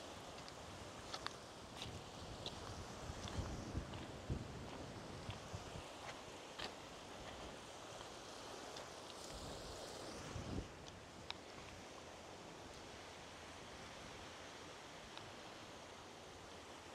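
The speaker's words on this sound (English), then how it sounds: "There is a bit of a breeze today. I don't know if you can hear it on the sound, but it is quite windy" A breeze blows by a choppy sea on the Scottish coast, giving a steady broadband rush with occasional gusts and faint clicks, fairly quiet and continuous with no talking.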